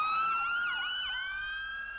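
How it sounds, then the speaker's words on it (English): A fire engine siren wailing loud and close, its rising and falling tone sweeping up and down alone with no other sounds. "And here is a fire engine."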